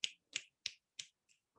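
Finger snapping, five crisp, evenly spaced snaps close up, with the last one fainter, followed by a brief soft sound in otherwise quiet surroundings.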